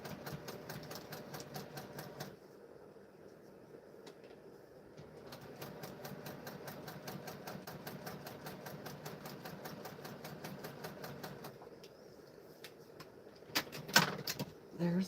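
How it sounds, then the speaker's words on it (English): A home sewing machine stitching a kite quilt block runs in steady whirring bursts with a rapid needle rhythm, pausing briefly between runs, close and moderately quiet. "And you sew right on the line that has the little stitches, the little stitch line."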